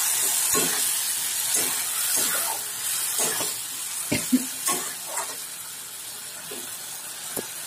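Spice masala being fried in a pan after a splash of water for a mixed vegetable curry: a soft steady sizzle and steam hiss with intermittent scraping stirs, close and fairly quiet.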